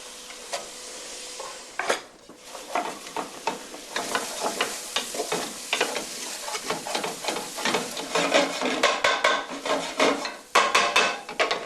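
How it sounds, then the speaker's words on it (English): Onions browning in a little rendered fat crackle and spit loudly in a pan, with dense irregular pops and spatters that build toward the end, close up and with no voices. "I am going to need a little bit to brown the onions"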